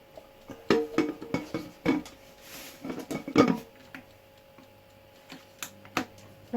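A utensil stirs tomatoes with garlic in a cooking pan, giving irregular clicks and taps against the pan with soft sizzling gaps in between, close and moderately loud.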